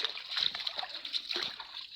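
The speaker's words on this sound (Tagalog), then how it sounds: "Kaning tubig diri mga kapobre, balon ni siya nga butangan og hose." Well water gushes from a hose in an outdoor setting, a steady splashing stream with irregular sloshing bursts, moderately close and fairly quiet, with no voices over it.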